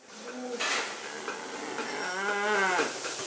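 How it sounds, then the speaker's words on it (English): A cow on a grass-fed farm lets out two drawn-out moos nearby, the second longer and louder, with faint outdoor background in between. "So God made a cow to eat grass."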